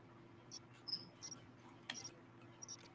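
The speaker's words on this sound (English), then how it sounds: "Now you got a cricket in your background." Faint, high, intermittent cricket chirps come in short bursts behind a quiet background hum on a call, with one brief click in the middle.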